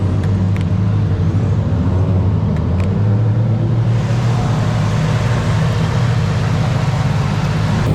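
A drift car's engine rumbles steadily on track during a tandem drift competition in 100-degree heat, loud and continuous with a low, throaty drone and a slight shift midway.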